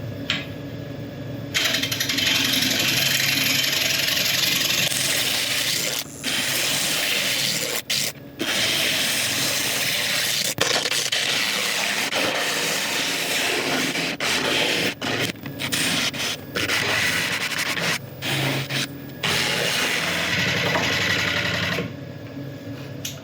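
A wood lathe turns an uncut burl, the tool cutting in a steady, loud broadband whir with repeated brief interruptions as passes are made, running near and continuous for most of the stretch.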